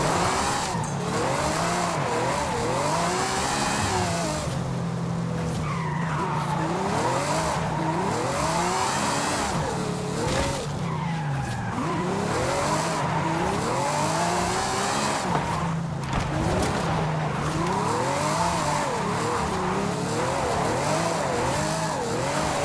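A Ferrari 512 TR with a drift tune sliding through corners in Forza Horizon 5, engine revs rising and falling over long wailing tire squeals, continuous and loud with no talking.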